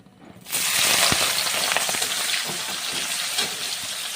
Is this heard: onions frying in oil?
yes